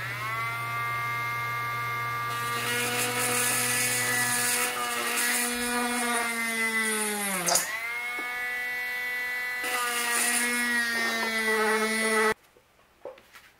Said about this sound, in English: I'm going to use a handheld Dremel with a number 54 bit